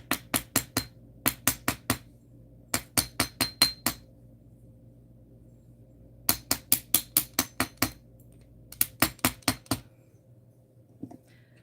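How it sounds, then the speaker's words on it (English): An Impress Art nylon hammer whacks small metal pieces to work-harden them. Quick, sharp metallic taps come in bursts of four to six, with short pauses between the groups, clear and close with no talking. "nylon hammer and just give them a couple whacks to work harden them some"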